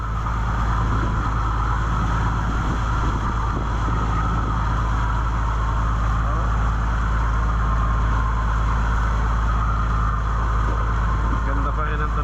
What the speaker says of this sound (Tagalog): Ganda pa rin ang tunog ng ating makina.